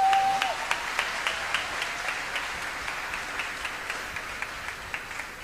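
Concert audience applauding after a municipal band and city orchestra performance, a dense, steady wash of many hands clapping that slowly fades, with a brief tone at the start.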